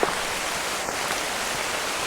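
Rain falls steadily in a durian orchard, a dense, even hiss of drops on leaves and ground throughout, with no voices.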